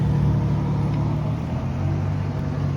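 A steady, loud rumble of nearby car engines with a low droning hum, heard beside a charging Tesla, continuous throughout and no voices.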